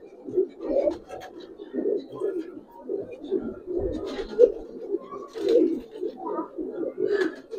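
Giribaz and coloured pigeons coo in soft, repeated low throaty phrases, close by and steady, with faint chirps and light handling noise in between.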